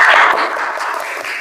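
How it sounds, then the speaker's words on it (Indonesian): Brief burst of audience applause for a student group at a teacher-training presentation in Surabaya, loud at first and then tapering, with dense clapping close by. "Silakan kasih aplaus untuk kelompok 1"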